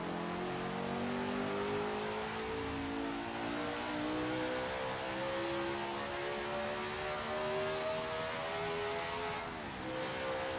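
A 1973 Matra Simca MS670 race car engine in a video game revs steadily upward, its loud, continuous whine climbing in pitch across the run, with a brief dip near the end.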